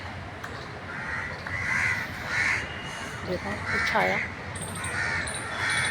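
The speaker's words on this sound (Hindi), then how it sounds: "पक्षी कैसे चहचहा रहे हैं।" Crows caw repeatedly outdoors on a sunny winter day in Delhi, several loud harsh calls spaced a second or so apart, with faint higher bird chirps and someone talking over them.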